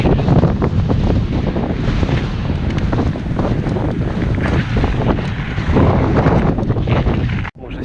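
Strong gusty wind buffets the microphone of a cyclist riding alone, a loud continuous roar with no break until a brief dropout near the end.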